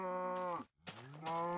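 Cows mooing in the video game Till the End: two long, loud, harmonic moos alone, separated by a brief silent gap.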